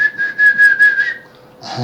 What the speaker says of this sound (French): On peut siffler aussi.